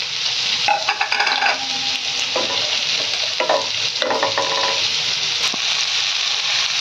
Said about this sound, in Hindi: तेल गरम हो गला परे प्रथम एथरे काजू को हमें भाजी नेबा।